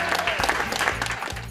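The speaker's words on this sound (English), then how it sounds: "a small but enthusiastic crowd gathers to celebrate" A small but enthusiastic outdoor crowd claps in celebration, brisk close applause sounding over a low rumble, with voices mixed in throughout the short burst.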